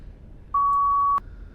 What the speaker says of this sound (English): It's beeping still.